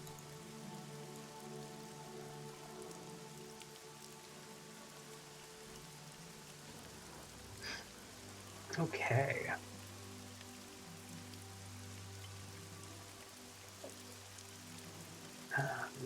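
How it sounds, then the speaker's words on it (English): Steady rain falls in a game scene, a soft continuous patter under a low droning hum, broken by a couple of brief knocks and a single short spoken word. "Looks like it's raining through the day."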